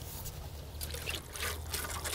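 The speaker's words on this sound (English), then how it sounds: "before we water this in" Water from a watering can pours onto a freshly transplanted feverfew plant in a garden bed, a steady soft trickle and splash running continuously, fairly quiet, with no talking.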